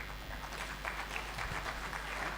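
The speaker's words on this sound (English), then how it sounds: "Ladies and gentlemen, a huge round of applause" An audience applauding at a national ICT event in Ghana, dense and steady clapping heard at a distance, faint and sustained for the whole stretch.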